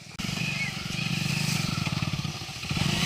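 Tractor engine chugs steadily nearby in a farm lane with a rapid low thumping rhythm, loud and continuous, while a person talks over it.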